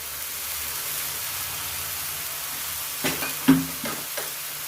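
Baby bok choy with shrimp in oyster sauce stir-fried in a pan, a steady soft sizzle that runs throughout, followed by a few distinct scrapes and knocks of the spatula near the end.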